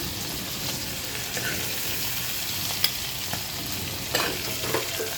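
Giant freshwater prawns fry in a pan with a steady, dense sizzle and crackle throughout, punctuated by a few light taps of a utensil, no voices.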